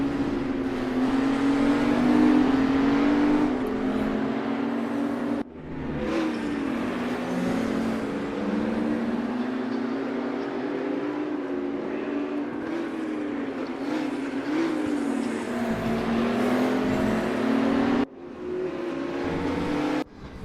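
Race cars in a sim racing game: engine whine runs continuously, its pitch rising and falling with each gear change and corner, and cuts off abruptly twice. No voices are heard.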